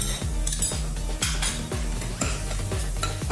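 A spoon scrapes rhythmically around a pan, repeated quick strokes over a soft sizzle of poppy seeds roasting.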